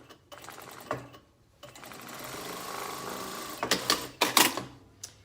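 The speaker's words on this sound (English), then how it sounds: "And I'm stitching, making sure that I'm not catching that buckram as I sew." A sewing machine stitches pleated fabric for a face mask in a steady, close mechanical run, ending in several short bursts and stops.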